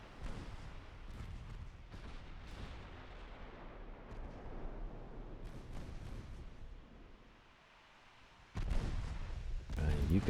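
Warship naval guns firing in a 1913-era naval strategy game, distant rumbling artillery booms rolling continuously under a low wash, fading briefly before a louder, closer burst near the end.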